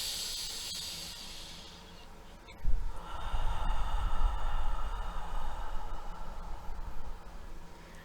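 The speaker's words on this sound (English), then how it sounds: "Now take a deep breath." A single deep breath, a long airy inhale followed by a slower, louder breathy exhale close to the microphone, no talking.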